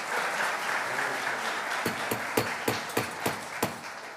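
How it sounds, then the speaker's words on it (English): Applause from the audience at a Myrtle Beach city council meeting rises as a dense wash, then thins into several sharp, separate claps and taps toward the end. "I'm going to ask you to please refrain from clapping"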